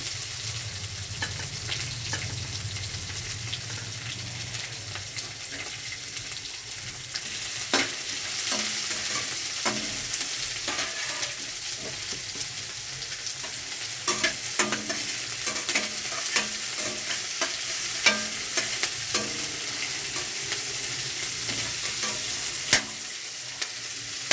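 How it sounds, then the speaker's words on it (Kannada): Onions sizzle and fry in a pan with curry leaves for beetroot palya, with a steady hiss under repeated scraping strokes of a spoon stirring throughout. No one speaks. "ಈರುಳ್ಳಿ ಎಲ್ಲ ಫ್ರೈ ಆಗಬೇಕು"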